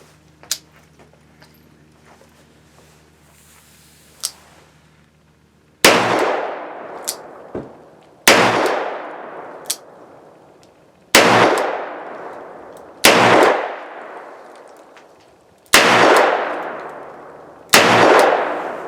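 Rossi RP63 .357 Magnum revolver fired with Perfecta 158-grain .38 Special rounds outdoors: six loud, sharp shots spaced about two to three seconds apart, each with a ringing decay, after a few quiet clicks of handling.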